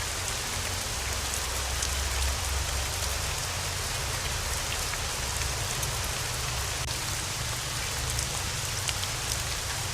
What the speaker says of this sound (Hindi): तभी थोड़ी देर में अचानक तेज बारिश चालू हो गई